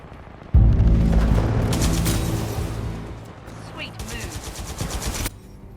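Mastiff shotgun blasts from the shooter game Titanfall 2, a loud burst of heavy gunfire and booming impacts under game action, a short lull, then another rapid volley of shots near the end.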